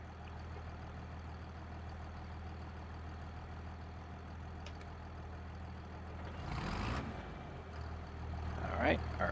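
A John Deere 2950 tractor in Farming Simulator 22 idles with a low, steady engine drone, joined near the end by a brief whoosh and rising mechanical noise.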